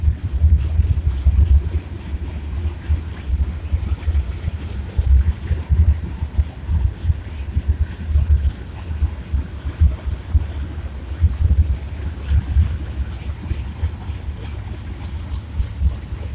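A long Union Pacific manifest freight train with tanker cars and a distributed power unit, an SD70AH among the locomotives, rolling past near North Platte, Nebraska: a steady, loud low rumble and roar, continuous throughout with wind buffeting the microphone.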